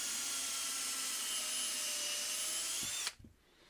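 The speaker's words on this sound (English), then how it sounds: "drilling down into it" A hand-held drill fitted with a 5/16 inch bit bores into a wooden bowl blank, a steady, close, high motor whine that lasts about three seconds before it winds down and stops.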